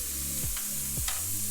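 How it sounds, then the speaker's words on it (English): Garlic dropped into a pan of hot chicken juices and oil, a loud steady sizzle and crackle close by, with a couple of brief scraping stirs and no talking. "with those chicken juices and the oil, I am going to add my garlic."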